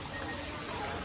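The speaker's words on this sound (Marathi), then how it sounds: "अजून पाणी वाहते" Water flowing at a Marian grotto at a Goa shrine, a soft continuous trickling wash, steady and faint, heard alone for about a second.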